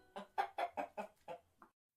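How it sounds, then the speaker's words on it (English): A hen clucking six times in a quick, uneven series, close and clear, the last cluck short and softer, with no other sound around it. "The giant went to the cupboard and pulled out a golden hen."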